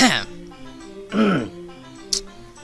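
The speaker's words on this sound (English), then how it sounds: "I really have to get rid of this cough" Two rough, throaty coughs spaced about a second apart, close and fairly loud, followed by a short sharp sound and quiet room noise.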